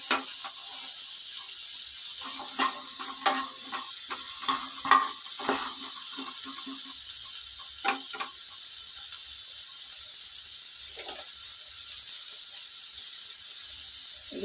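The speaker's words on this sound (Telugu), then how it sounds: "ఇప్పుడు వేయించుకుందామండి ఒక్కొక్కటి" Pieces of paneer frying one by one in a pan with about half a tablespoon of oil, giving a faint steady hiss broken by soft clicks and taps as each piece is set down, with no voices.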